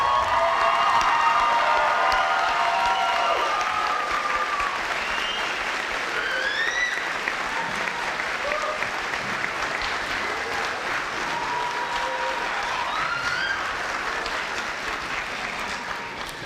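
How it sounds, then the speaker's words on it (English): A graduation ceremony crowd gives steady, full applause for the graduates, with cheering and whoops scattered through the dense clapping, slowly easing off toward the end. "Can we have one last round of applause for our graduates"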